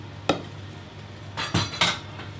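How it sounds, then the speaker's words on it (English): Boiled, drained sweet potatoes are tipped back into the pan, making a few close clattering knocks and soft thuds of metal and food, with no talking. "So once your potatoes are drained, all you want to do, pop them back in the pan."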